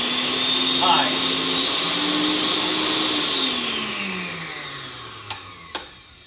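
A Vitamix blender motor whines steadily and loudly, its pitch climbing as the speed rises, then winding down gradually; two sharp clicks follow near the end.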